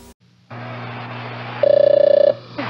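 A telephone rings through a Zenith television in an old ad: a steady electronic hum, then a rapid warbling electronic ring that lasts under a second before cutting off, clear and close.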